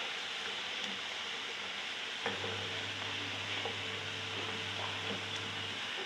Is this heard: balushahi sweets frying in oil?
yes